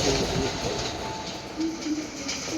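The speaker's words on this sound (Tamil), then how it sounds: "ஓகே, பேசஞ்சர் ட்ரெயின் எதுவும் போகுது." A passenger train passes on an adjacent railway track, heard from aboard a moving superfast express train: a steady loud rushing roar with rhythmic rattling and clacking throughout.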